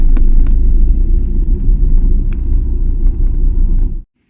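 Diesel car engine rumbling low and steady as the vehicle creeps forward to a fuel pump, loud and close from inside, with a few faint clicks before it cuts off abruptly at the end.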